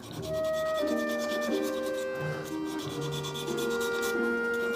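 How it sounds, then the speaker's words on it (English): Sanding a turned wooden shaving brush by hand while it spins on a lathe, a continuous close rasping rub that swells and eases in short strokes, with tonal lathe hum beneath and no speech. "I'll just give that a little rub here and there by hand"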